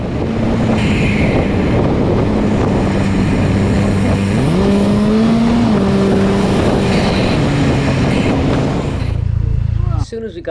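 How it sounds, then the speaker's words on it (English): Vanderhall exotic three-wheeled car driven on a road, engine note droning steadily with rising and shifting pitch as it accelerates, loud wind rush throughout, sped-up, fading abruptly near the end. "And this car sounds great."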